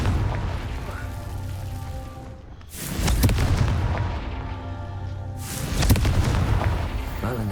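Two Confringo fire-spell explosions go off in the Hogwarts Legacy video game, each a loud booming blast with a crackling tail. They sound a few seconds apart over a continuous game soundscape.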